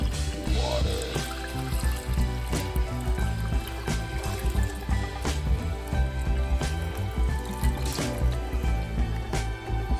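Filtered water pours steadily into a crock pot while bulalo soup is being prepared, a continuous splashing stream heard over a dense, busy kitchen background.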